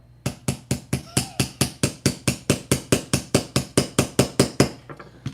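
Steady series of sharp hammer taps on a tight 3D printed part, about four per second, a couple dozen strikes in a row, close and fairly loud with short ringing decays.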